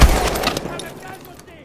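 A semi-automatic weapon in the shooter game Call of Duty: Advanced Warfare fires a loud, close shot at the start, followed by a few fainter shots as the echo fades out.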